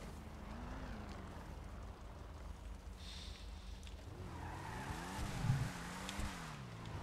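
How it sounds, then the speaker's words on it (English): Viscera sports car in GTA 5 doing donuts on a golf course, its engine revving up and down in looping waves with faint tire squeal, moderately quiet and without talking. "Let's go and do some hooning on the golf course while we wait"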